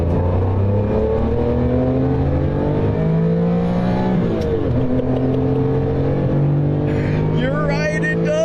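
Porsche 959 supercar engine revving hard at high RPM, climbing in several rising pitch sweeps through gear changes, loud and close, with a brief dip between pulls.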